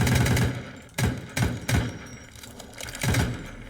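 AK rifle firing in the zombie video game Deathly Stillness: several loud, sharp bursts of shots close by, spaced unevenly over a few seconds, with no voices.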